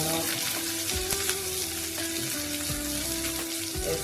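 Coriander and cumin seeds sizzling steadily in a hot pan for chutney, a continuous close frying hiss with faint stirring and no talk.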